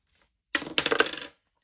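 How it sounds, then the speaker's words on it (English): A pair of dice drops and rattles across a hard surface, a quick clattering burst of small bounces lasting under a second, close and clear against silence. "So I will roll the dice and see what I get, and probably give it a couple of rolls this week."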